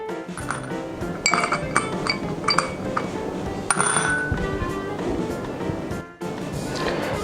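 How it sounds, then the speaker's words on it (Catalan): Metal screws drop into bowls one after another, three per bowl, each landing with a bright clink and ringing ping, over a low background hum. "I ara vaig a ficar 3 tornillos en cada bol."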